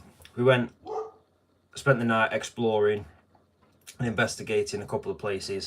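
A dog barks at someone out in the street, short yapping barks heard close by and mixed in with a person talking over them.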